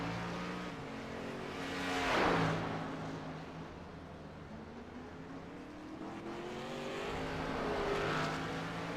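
A race car engine drones and revs on a circuit as a car heads out for its warm-up lap at an evening race meeting, a steady loud roar swelling as it passes near around two seconds, then holding at a continuous mid-distance hum.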